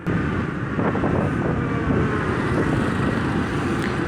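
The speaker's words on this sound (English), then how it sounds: "So the engine sound is slightly lower than the Aerox." Honda ADV 150 scooter on a Singapore highway at speed, a steady engine drone buried in heavy wind rush and road roar, constant and loud throughout with no talking.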